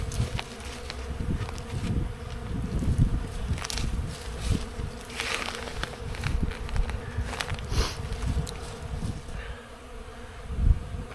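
Honeybees buzz around an opened hive in a bee yard, a dense, continuous hum with individual bees droning close past, steady and fairly loud with no talk.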